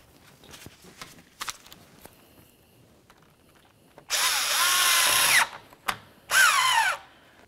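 A power drill-driver snugs a hose clamp onto the radiator hose of a 2004-2015 Nissan Titan, two loud whirring bursts of about a second each close up, after quieter clicks and handling noises.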